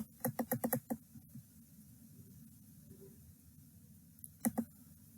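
Sharp, quick computer mouse clicks in two bursts, a rapid run of about six near the start and a few more near the end, close and crisp over a quiet room hum with no talking.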